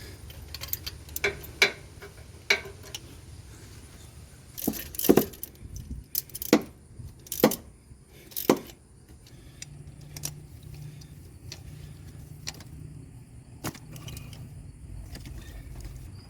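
Ratcheting and metallic clicks from a 5/8 socket loosening spark plugs on a 2013 Ford F150 6.2L V8, in scattered bursts of close, sharp ticks and clanks over a faint low background hum, with no talk.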